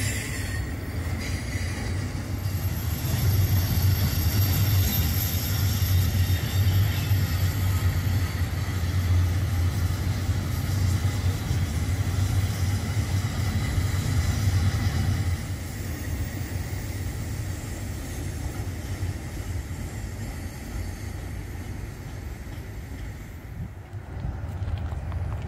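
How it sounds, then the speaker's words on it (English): A Norfolk Southern welded rail train rolls steadily past on the Old Fort Loops, a loud continuous rumble of wagons with a high wheel squeal layered on top, easing slightly in volume partway through and continuing to the end. "we got our chance to catch the 912 rail train heading down the loops east"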